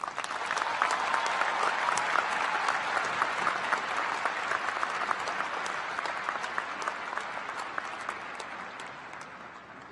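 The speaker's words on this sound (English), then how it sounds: "Please give a resounding applause to Professor Njabulo Ndebele" Steady, dense applause from a large audience at a formal ceremony, loud and continuous throughout with sharp individual claps standing out, tapering only slightly at the end.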